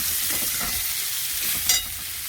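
Spice paste with onion, green chilli, mustard, poppy seed and coconut hitting fried beans in a hot pan, a loud steady sizzle with stirring scrapes, close up.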